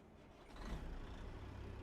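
A Caterpillar C15 diesel truck engine in a driving simulator sound mod recorded from a real truck gives a low, rumbling drone that swells and then settles into a steady, fairly quiet idle.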